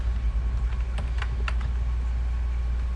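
Several quick keystrokes tap on a computer keyboard while setting up an FPV drone gimbal, light clicks clustered around the middle over a steady low hum.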